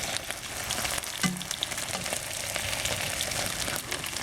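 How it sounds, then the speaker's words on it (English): Chunks of Hunan chicken fry and sizzle in a pan with a crackling hiss, a spatula briefly scraping and stirring at moderate distance. "you have to fry them a little bit longer"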